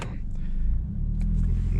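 A 2010 Ford Focus SE with 110k miles, driven past a beach, gives a steady, loud low engine rumble that holds throughout with no voices.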